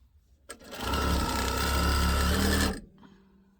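A sewing machine runs steadily for about two seconds, stitching odd fabric scraps with a loud, close whirring hum, then stops abruptly.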